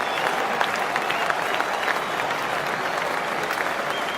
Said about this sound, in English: listen to the roar as this man comes to the crease